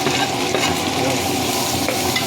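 Tomatoes hit a hot pan while cooking pakbet with pork, producing a loud, close, steady sizzle with stirring scrapes mixed in, continuous from start to end without speech.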